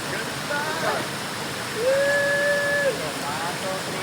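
Kawa Falls waterfall pours as a steady broadband rush of water, with a few thin whistling tones and faint voices over the continuous roar.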